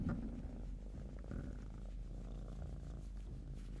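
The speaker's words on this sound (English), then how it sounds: "She's purring and I can hear her in the microphone." A cat named Soleil purring right up against the microphone, a low, rumbling, rhythmic drone that is close and steady, quiet overall with no voices.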